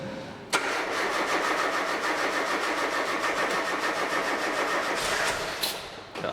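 A Ford Sierra's CVH engine with a race cam cranks briefly, catches and settles into a loud, steady, lumpy idle close by, with a small blip of revs near the end.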